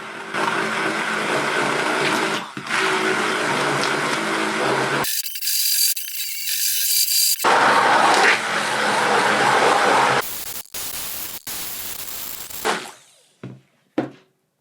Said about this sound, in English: For this job, an immersion blender works best.